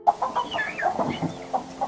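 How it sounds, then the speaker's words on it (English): Hen clucking in a henhouse during a fox attack, a run of agitated, close clucks and squawks with no talk. "In a subsequent try, the fox successfully grabs a hen and bites it."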